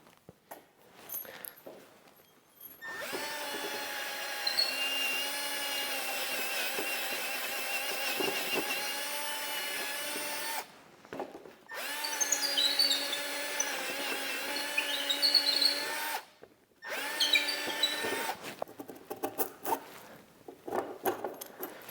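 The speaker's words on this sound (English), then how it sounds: "let's go drill the bottom of 2x6" A power drill bores into 2x6 wood for a barn pocket gate, running in three long steady bursts separated by brief pauses and clatter.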